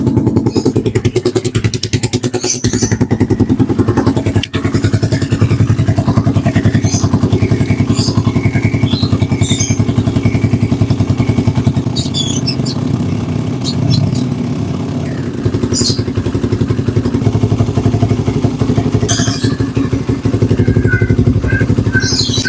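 A Raider 150 Fi motorcycle engine starts and runs steadily at idle after a radiator hose replacement, a loud, close, continuous throbbing rumble with occasional clatter and thumps throughout.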